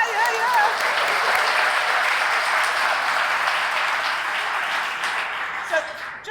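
Sustained audience applause at a Hall of Fame induction ceremony, a dense steady wash of many hands clapping at fairly close range that holds for several seconds and tapers slightly near the end.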